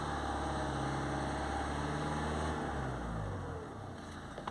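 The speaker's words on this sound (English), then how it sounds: "Even at higher revs, that's not me changing the RPM with my foot, it's just going all over the place." A Citroen C4 Picasso with a long-crank-time fault idles at raised revs, the engine drone hunting up and down on its own and then dropping lower near the end, close and loud with no talk.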